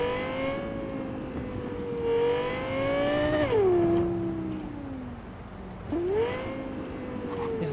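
A car engine revving in the video game Cyberpunk 2077, a loud close whine rising and falling in pitch across several gear shifts, with sharp drops and climbs.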